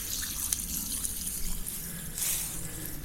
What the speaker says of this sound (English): The sun is gone and this is the last bucket of water.